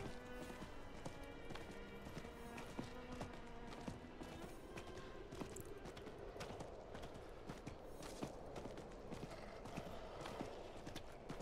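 Horse hooves clip-clop in a steady trotting rhythm in Diablo IV, quiet and close, over a faint musical background.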